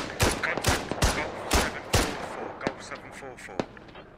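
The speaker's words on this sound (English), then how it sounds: "Shots coming from all over the place here." Squad Ops firefight with a rapid burst of close gunshots early on, then scattered single cracks tapering off, alongside faint voices on team chatter.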